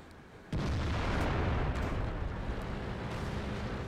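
Tank cannon fire in World of Tanks from an M103 heavy tank, a sudden loud booming blast followed by a dense, rumbling wash of noise that sustains for several seconds without talk.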